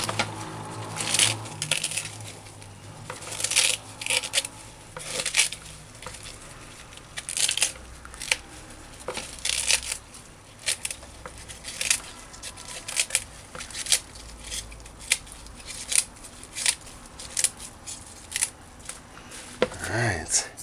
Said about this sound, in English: With Callaloo, you don't have to cut it.